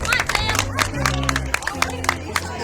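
A studio audience on a Wisconsin daytime TV show claps rhythmically with sharp individual hand claps while a crowd cheers and calls out, with music and voices underneath.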